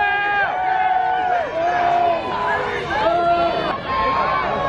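A wild NASCAR race-day crowd at Auto Club Speedway yells and cheers during driver introductions, with drawn-out shouts overlapping in waves over a steady crowd murmur.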